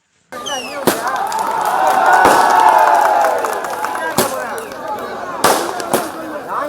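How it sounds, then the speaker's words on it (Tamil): Firecrackers burst in sharp, loud cracks at irregular intervals outdoors at Gandhi Market, amid crowd noise and a continuous shrill whistling tone. "வியாபாரிகள் மாலை அணிவித்து பட்டாசுகளை வெடித்து வரவேற்பு அளித்தனர்"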